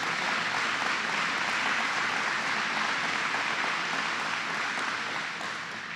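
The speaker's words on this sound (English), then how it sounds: "Let's give the Commissioner a round of applause." Audience applause at a governor's announcement event for the transformation of the Greater Rochester airport, a steady, dense wash of clapping from a large crowd that holds for several seconds before easing slightly.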